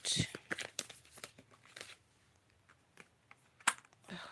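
Tarot cards shuffled by hand in quick, crisp riffling bursts at close range, with a pause partway through and a few more papery flicks near the end, voice faintly present.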